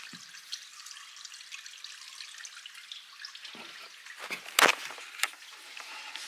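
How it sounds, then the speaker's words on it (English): Pond water spilling out through an outlet, a soft steady trickle close by with a few sharper splashy drips toward the end, no voices over it. "There's actually some water going out of the pond."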